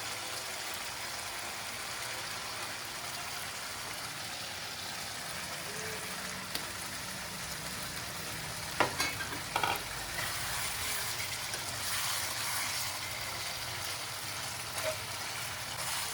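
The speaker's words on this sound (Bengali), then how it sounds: "এবার ভাজা মাছগুলো একটা একটা করে দিয়ে দেবো।" Fried sating fish pieces go one by one into sizzling spice paste and oil for a Bengali tel jhal, a continuous hiss with a few sharp splatters and clinks midway, no voices.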